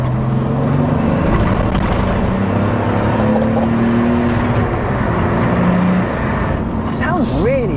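A BMW E46 Compact with a swapped M57 diesel engine accelerates hard, a loud, steady drone of rising revs near the microphone, with people talking over it and a brief higher whine near the end.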